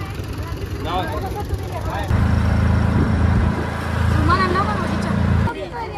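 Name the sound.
auto rickshaw ride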